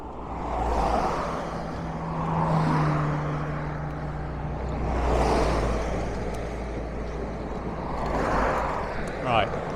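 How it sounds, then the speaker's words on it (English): Cars pass along a short stretch of rural road near the A920 in Aberdeenshire, heard from a bicycle as a steady low road rumble that swells and fades several times as vehicles go by, with wind noise throughout. "we've got cars coming along"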